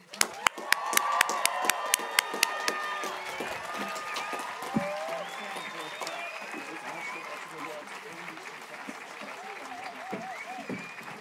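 At a St. John's College Santa Fe commencement, the audience applauds the graduating undergraduate class of 2022; loud, sharp claps near the start give way to a sustained roar of clapping and cheering, with crowd voices and occasional whoops mixed in.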